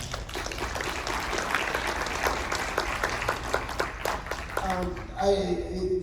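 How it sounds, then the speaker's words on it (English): Audience applause at a horror convention panel for Terrifier 3 at Days of the Dead Atlanta, steady dense clapping from a crowded room that fades near the end as a voice starts talking. "give yourselves a round of applause for that"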